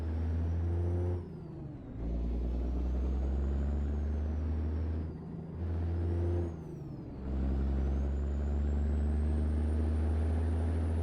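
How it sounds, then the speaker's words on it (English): A truck engine hauling logs drones loud and near in a deep steady idle, broken by several sharp drops and surges as the throttle and gears change, with no voices. "Truck sounds good."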